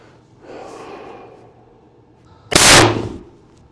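A single loud crack of a budget long-range hunting rifle firing, preceded by a soft breathy rustle.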